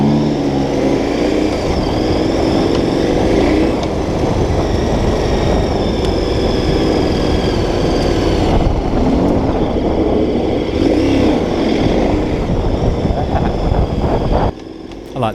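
A big motorbike's rear wheel spinning on a straight dirt trail, its engine a loud, close, sustained roar with slight rises in revs, cutting off abruptly just before the end.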